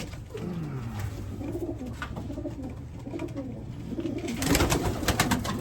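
Racing pigeons coo repeatedly in a loft, soft rolling calls close by, with some rustling and a burst of noise near the end.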